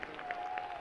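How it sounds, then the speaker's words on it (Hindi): Church congregation applauding during a Sunday evening service in New Chandigarh, a steady brief wash of many hands clapping at moderate distance, with no speech over it. "जितनों को विश्वास है वो जोरदार ताली बजाकर प्रभु को धन्यवाद दें।"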